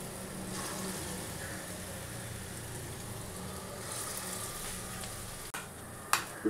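Poppy seed fritters fry in hot oil in a home kitchen, a steady close sizzle and bubbling hiss that continues throughout, with a few sharp clicks near the end.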